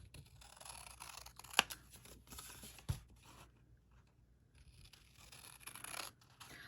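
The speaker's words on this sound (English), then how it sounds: "I'm just going to cut off the sides." Scissors snip the sides off a sheet of paper for a gingerbread recipe board craft: a couple of short, crisp cuts amid faint rustling, quiet and close, with no voices.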